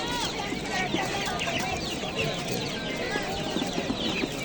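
A busy chorus of clucking hens and peeping chicks at a poultry market in Andijan, dense and continuous, with crowd murmur in the background.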